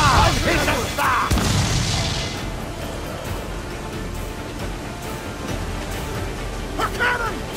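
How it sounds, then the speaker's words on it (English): Ship cannons boom in Assassin's Creed 4: Black Flag, with a few heavy blasts early on over rolling sea and wind noise, then another burst near the end, while crew voices shout throughout. "A cannon!"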